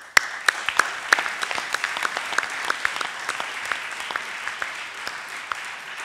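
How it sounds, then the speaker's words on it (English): Audience at an academic association's annual award ceremony applauding the winners, a sparse room of individual claps with a few sharp, louder hand strikes over a steady patter, lasting several seconds with no talking. "let's applaud them for such a wonderful achievement"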